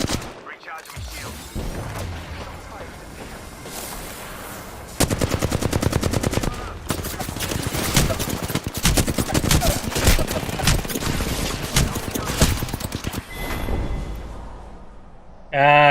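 Sustained automatic gunfire in Apex Legends, long dense rattling volleys that run almost without pause, loud and close, with a brief talking voice.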